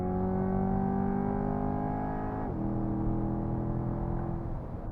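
A Chevrolet Corvette in track mode accelerates at full throttle, its engine note a loud, continuous rising roar heard from inside the car, with a brief dip at a gear change and no talking.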